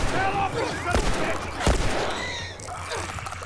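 Gunfire in The Last of Us Remastered: a busy, dense burst of in-game shots with a sharp loud crack near the middle, mixed with game ambience and voices throughout.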